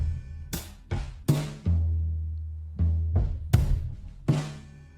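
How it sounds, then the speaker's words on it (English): A slow, heavy drum loop time-stretched to a slower tempo: sharp, widely spaced hits over a deep sustained bass boom, each strike ringing out before the next. "I bounced out these drums and stretched it to 8 bars"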